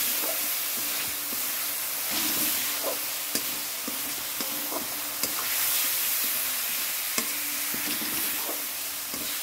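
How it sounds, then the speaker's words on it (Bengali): Spices sizzle loudly in a hot pan with steady hissing, broken by periodic scrapes and knocks of a spoon stirring them, close and continuous. "দেখো মশলা দিয়ে দিলাম"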